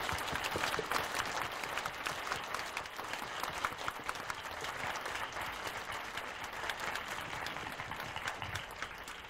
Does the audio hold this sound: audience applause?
yes